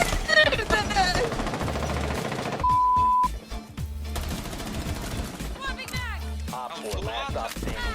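Rapid automatic gunfire from a video game crackles in loud bursts and bursts of fire, mixed with a brief tone and overlapping voices from the players.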